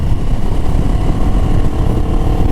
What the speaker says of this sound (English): It feels like a nice revvy little engine.